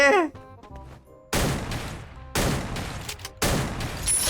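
Loud gunfire in the Free Fire battle game, three heavy bursts of rapid shots separated by brief lulls, preceded by a short musical chime, close and harsh.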